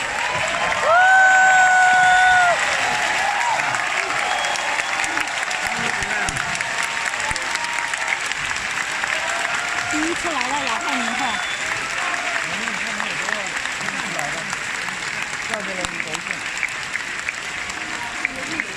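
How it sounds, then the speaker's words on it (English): A conference general-session audience bursts into loud, sustained applause with cheering, strongest at the start and then settling into steady clapping; a voice or two rises above the crowd. "So now let's give them a big round of applause."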